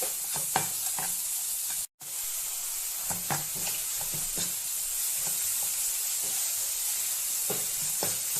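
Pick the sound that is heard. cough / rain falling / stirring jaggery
stirring jaggery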